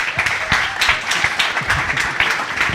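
Clapping from an audience at a forum event: fairly close, lively applause whose individual claps are clearly audible, holding a steady pace from start to finish.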